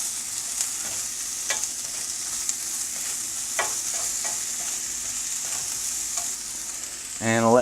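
Potatoes frying in a pan, a steady loud sizzle throughout with occasional clinks and scrapes of a utensil stirring them, close up and without talking, ending in a brief louder clatter.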